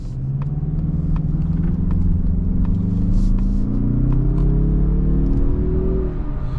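A 2026 Mazda CX-30 Turbo Aire Edition accelerates hard from inside the cabin. The engine drone is loud and close and climbs steadily in pitch through the gears, with road rumble underneath.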